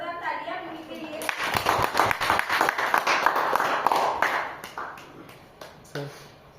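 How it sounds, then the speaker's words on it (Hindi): An office audience claps for Mimi as she is called up at a workplace event: a dense burst of applause swells after a second and runs several seconds before thinning into scattered claps, with voices talking over it. "सो जोरदार तालियां मिमी के लिए"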